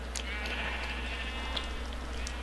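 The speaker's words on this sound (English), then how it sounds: "You setting sheep on fire again, aren't you?" Sheep bleating in the Minecraft video game, several short game bleats rising over a steady broadband background hum, with no voices over them.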